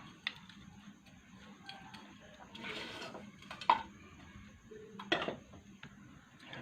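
Sevaiyan vermicelli, made with khoya, being served onto a plate: soft scraping and a few sharp clinks of a spoon against dishware, close by, scattered across several seconds.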